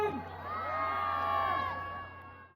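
Crowd at a Vybz Kartel and Spice dancehall show in the Bahamas roars and whoops loudly, a dense swell of cheering voices with shrill shouts rising over a steady low hum, peaking midway then easing off.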